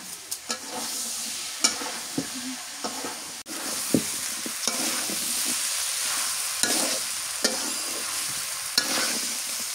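Eggplant sizzles steadily in hot oil for a fish curry, with a spoon scraping and clacking against the pan in repeated strokes over the constant frying hiss.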